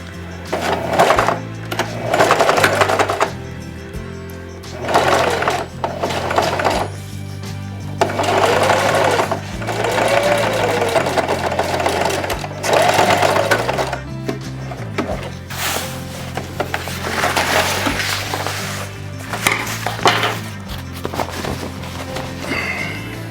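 A sewing machine stitches a Mando vest neckseal in loud, repeated bursts of mechanical whirring, each run stopping and starting again with short pauses between.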